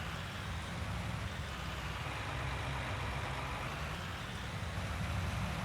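A farm tractor engine in the Farming Simulator 19 video game hums in a steady, low idle-like drone during field work, even and fairly quiet throughout with no talking.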